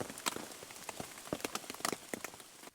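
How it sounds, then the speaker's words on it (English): Rain patters on a tent at night in a UK forest campsite, irregular close drops tapping sharply over a quiet background, with no voices. "Listen to this rain"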